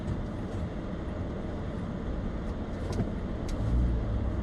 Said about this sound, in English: Of course, traffic.